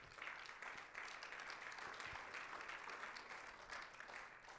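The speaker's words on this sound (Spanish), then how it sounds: "denle un aplauso a nuestro Dios celestial" Congregational applause at a Sunday church sermon broadcast, a steady wash of many hands clapping that holds at an even, moderate level throughout.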